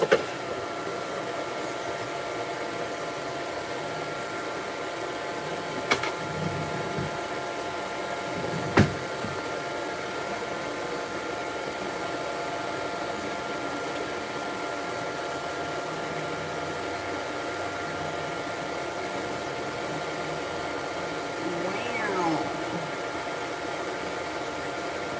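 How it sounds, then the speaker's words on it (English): A dryer blows steadily on a dog's coat after a shampoo, a continuous whooshing hiss with a couple of sharp clicks and a faint voice near the end. "turn on the Shampoo dryer and try and blow his boots out and his tail"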